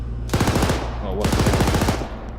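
Rapid automatic gunfire in the military shooter game Arma 3 comes as two long, loud, fast-rattling bursts separated by a brief pause, harsh and close.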